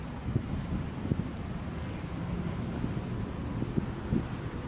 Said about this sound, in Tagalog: maganda na yung ating panahon, mahangin na, ano?